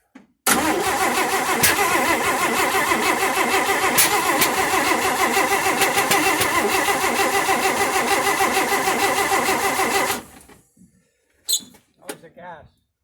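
A 1958 AMC Rambler Super's engine is cranked on a first start attempt, with about ten seconds of loud, close, rhythmic starter churning that fails to catch. Then it stops, leaving a few faint clicks and knocks, and voices can be heard.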